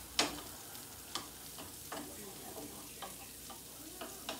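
Lavender frying in a pan that tends to stick, a quiet steady sizzle broken by regular scraping strokes of stirring about twice a second, close and with no talk.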